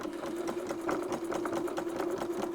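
A sewing machine stitches a geometric wave quilting border in a close, steady whir, its needle thumping in a fast, even rhythm throughout with no voices.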